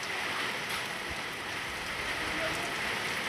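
Heavy storm rain pours down in a dense, steady hiss, loud and close on surrounding surfaces with no break.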